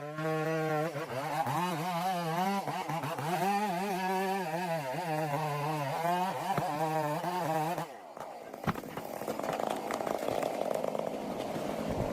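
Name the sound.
chainsaw cutting trees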